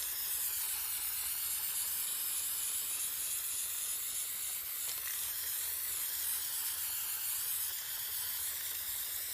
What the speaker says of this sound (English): I'm just going to spray it with a clear coat